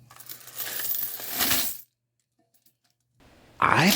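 Coins and bills pour out of a container in a loud metallic jangling cascade that clatters for almost two seconds, falls silent, then resumes with a sharper rattling at the end.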